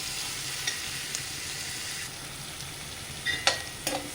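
Chopped garlic, chillies and shallots sizzle in hot coconut oil with a steady, even hiss, broken near the end by a few sharp clinks of a spoon against the pan.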